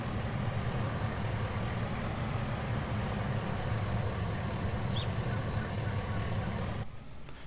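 A Lizard pickup truck in Farming Simulator 19 runs with a steady, droning engine rumble that holds unchanged for several seconds, then cuts off abruptly near the end.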